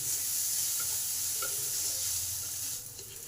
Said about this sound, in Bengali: এবার এটাকে ভালো করে এর সঙ্গে নেড়ে নিই